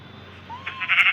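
A sheep in the video game Minecraft lets out one short, rising bleat close up, with no speech.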